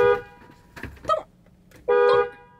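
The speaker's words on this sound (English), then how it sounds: "Sorry, I love honking horns." Car horn honking inside a parked car, a few loud close blasts with short gaps, the last held longest, with no talk over them.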